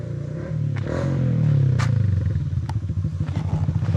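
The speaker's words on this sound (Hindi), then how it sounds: "आ तो रही है कोई ना कोई बाइक वगैरह।" A motorcycle carrying two riders approaches along a village road in Malaysia, its engine swelling into a rhythmic, throbbing putter as it draws near, with a few light clatters.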